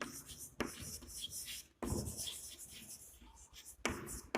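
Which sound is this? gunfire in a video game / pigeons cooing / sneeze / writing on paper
writing on paper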